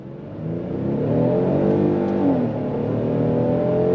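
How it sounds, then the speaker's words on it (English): A front-wheel-drive 2025 Kia Telluride S SUV with an 8-speed automatic pulls hard on throttle out of a U-turn, its engine revving up close and loud, climbing steadily through a smooth shift with no talk over it. "We're gonna go on throttle. Are you ready? On throttle, here we go."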